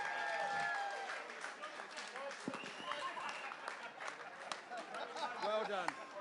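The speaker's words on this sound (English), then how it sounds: "Give them a massive round of applause." An audience applauds at the finish of the Clipper Round the World Yacht Race in London, with steady clapping and crowd noise running throughout under voices.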